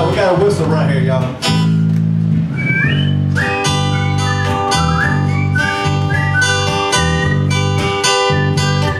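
Whistling rings out at a live opry show in Belton, South Carolina, sustained melodic tones carried over a band's accompaniment, loud and close for the whole stretch.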